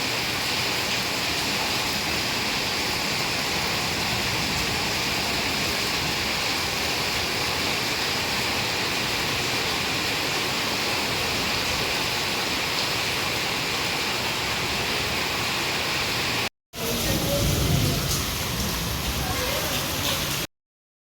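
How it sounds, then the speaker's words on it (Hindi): Heavy monsoon rain pours down in a dense, continuous hiss and roar, steady and loud throughout with a brief break near the end. "देखिए आज फिर हो रही है बारिश झमझम झमझम।"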